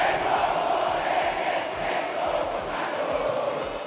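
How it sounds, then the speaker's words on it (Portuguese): A Santa Fé football crowd shouts and chants in a packed stadium, a dense, continuous roar of many voices with rhythmic pulses, loud and sustained throughout. "Essa barulhada toda da torcida do Santa Fé"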